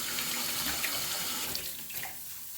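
Water pours steadily from a tap into a cooking pot holding chicken and vegetables, a dense, close hiss and splash that stays even throughout and eases off slightly near the end.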